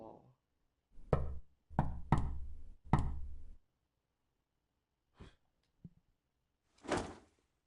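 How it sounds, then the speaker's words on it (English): A visual novel game sounds a knock at a door: three or four heavy, distinct thuds in quick succession, followed after a pause by a few fainter thumps and a soft breathy sound. "Suddenly, I heard a knock at the door."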